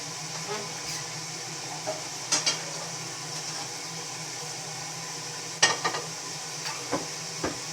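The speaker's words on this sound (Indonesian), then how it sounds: "Kalau goreng telur," An egg frying in a pan, a soft continuous sizzle running steadily beneath a low hum, broken by a few sharp clinks and taps of a utensil against the pan.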